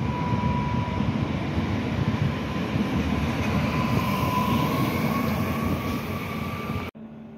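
A train departs Tarnów station for Kraków Główny, with a loud, steady rolling rumble, rail noise and a sustained whine close by, ending abruptly.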